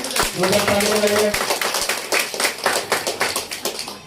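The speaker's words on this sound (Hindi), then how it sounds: "भाई एक बार जोरदार ताली।" Guests at a wedding ceremony break into loud clapping, a dense burst of many hands that thins into scattered claps and taps, with a voice speaking over the start.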